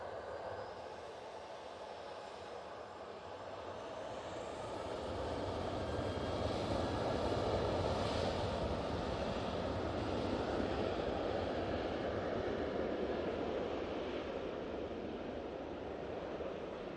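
A Ryanair plane taking off for Belfast from Manchester Airport gives a distant, broad rushing roar that swells after a few seconds and holds steady, with no one talking.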